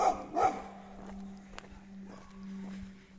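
Angry dogs bark along a rural road in Alabama during a trail road walk: two loud, close barks at the start, then the barking trails off against a steady low hum and faint footsteps.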